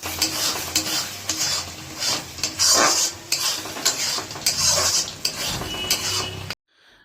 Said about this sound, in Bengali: দিয়ে এবার আমাদের ভালো করে এটাকে কষে নিতে হবে প্রায় 10 মিনিট হাই ফ্লেমে